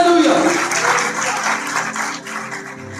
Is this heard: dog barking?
no